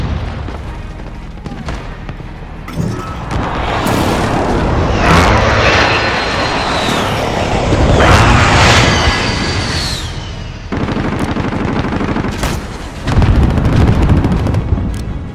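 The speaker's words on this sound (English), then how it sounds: "Friendly precision airstrike on the way" Precision airstrike in Call of Duty: Modern Warfare on a bridge map: loud jet roar sweeps overhead, followed by heavy booming blasts and crackling gunfire in a dense, continuous battle mix.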